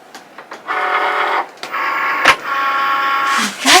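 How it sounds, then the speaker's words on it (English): Cricut cutting machines, several running at once, drawing in inserted cutting mats; steady mechanical motor whirring with tonal hum in a few sustained stretches, broken by brief clicks and pauses, fairly close and loud. "what we're going to do now is just insert our mats into the machines"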